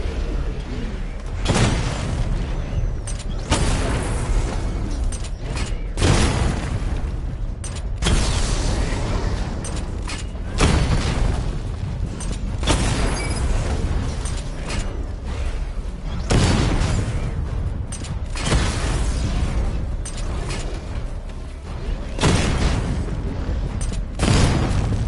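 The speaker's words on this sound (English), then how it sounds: "Charge the missile barrage to level 2 to destroy up to 4 targets at once." Missile barrages in Batman: Arkham Knight set off repeated heavy booms and blasts, loud and close, spaced a few seconds apart over a rumbling mechanical game background.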